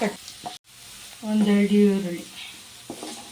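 Green chillies and chopped onions drop into hot oil and fry with a bright sizzle that swells in the middle and then fades. A person talks briefly at the start and again near the end.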